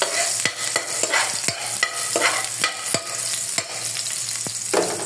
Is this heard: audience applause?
no